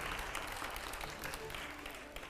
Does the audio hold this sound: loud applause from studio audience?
yes